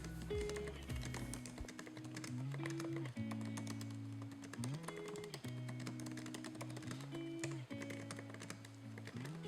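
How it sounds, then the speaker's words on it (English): Quick, steady typing on a 2020 MacBook Pro keyboard, close and clear, a continuous run of light key clicks with a soft, even rhythm. "The keyboards are so nice to type on, like the travel is just enough, and it sounds pretty nice"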